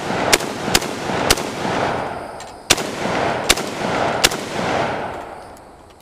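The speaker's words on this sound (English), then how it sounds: "I have like 8 rounds loaded into this AK-47." AK-47 rifle firing 7.62x39 rounds in a backyard: seven sharp, loud reports in two uneven bursts, each shot followed by a rolling echo that fades toward the end.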